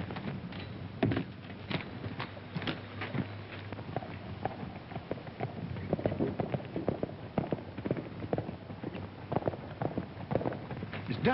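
Steady clip-clop of horse hooves galloping at a quick pace in a Western film, continuous and fairly close, with a rough outdoor wash underneath.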